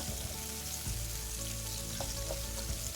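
Onions and garlic sautéing in a pan for egg fried rice, a dense steady sizzle with a couple of faint clinks, close and continuous, no voices.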